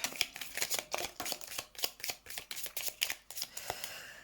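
Oracle cards are shuffled by hand close up, giving a quick series of soft papery riffles and slaps in an uneven rhythm, fairly quiet, with no talking over them.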